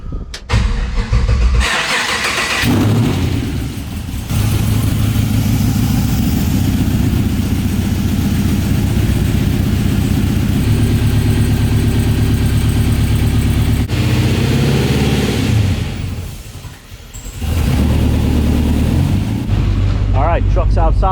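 A supercharged Chevy LS3 V8 in a C10 stepside truck cranks and fires up loud and close, then settles into a heavy, lumpy idle. A brief lull comes before another blip, and voices are faintly mixed in.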